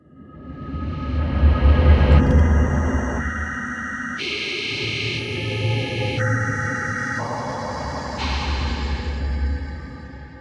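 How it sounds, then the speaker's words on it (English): A dark, droning Minecraft cave ambience with a low rumble and shifting tonal layers that change in blocks every few seconds, steady and without voices. "we select the original audio for the cave sound numbered as 14 in the files"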